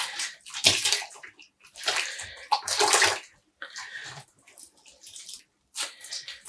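Dyed yarn wrung by hand, water squeezed out in wet, splashy bursts that drip and spatter close up, coming in several uneven pulses with short pauses between.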